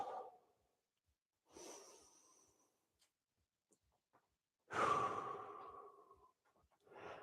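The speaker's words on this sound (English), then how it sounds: "A couple of really nice big inhales and exhales." Deep breaths during a babywearing workout: two or three slow, audible inhales and exhales, close and fairly soft, separated by silent pauses, with no talking.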